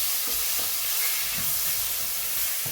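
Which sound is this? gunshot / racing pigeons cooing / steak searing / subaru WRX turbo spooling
steak searing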